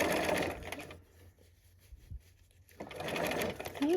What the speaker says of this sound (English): we're gonna take a couple stitches to secure that